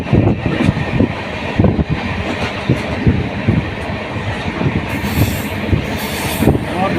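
A train at Azara railway station near Guwahati, with a steady rumbling rush of wheels and carriages close by, wind buffeting throughout and brief higher hissing squeals in the later part.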